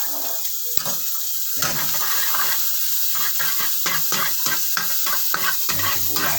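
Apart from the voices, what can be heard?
onions sautéing in pan for sinangag fried rice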